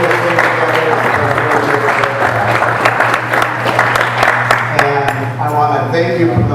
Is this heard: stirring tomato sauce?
no